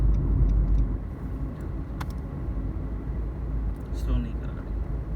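A car engine rumbles steadily from inside the vehicle during a driving test around a police test area in Ras Al Khaimah, with low road noise throughout and a few faint clicks.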